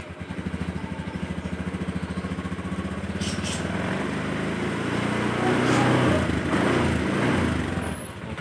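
A 2018 Honda BeAT Street scooter's small engine idles with a steady putter, then revs up to a louder rasping drone before settling, heard close with no speech.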